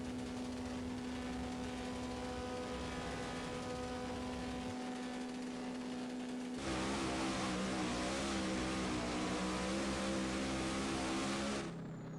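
A drag car in the mobile game No Limit Drag Racing 2.0 idles with a steady engine hum, then launches into a loud rising rev that holds for several seconds before cutting off.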